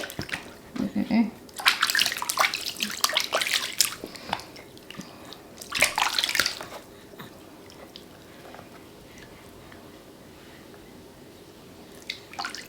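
A newborn baby being bathed in a small tub of water, with bursts of close splashing and dripping that fade to quieter trickles and stillness, then a brief splash near the end.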